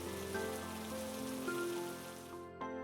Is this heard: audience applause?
no